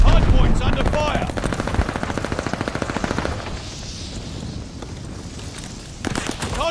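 Rapid machine-gun fire in the video game Call of Duty Vanguard, loud and close, dense bursts of shots for about three seconds, then a softer rumble and a few scattered shots near the end, with no talking.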